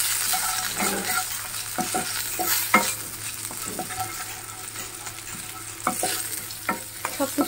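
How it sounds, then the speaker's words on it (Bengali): Green chilies fry in a pan over a continuous soft sizzle, with a utensil stirring and knocking against the metal in scattered, sharp clicks. "ফ্রাই করে নেবো ভালো করে। কাঁচা লঙ্কা দিয়ে দিলাম,"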